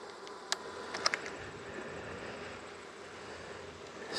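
Honey bees in flight around a mating nuc, a steady, even buzzing drone heard close up, with a few faint clicks and knocks rising above it.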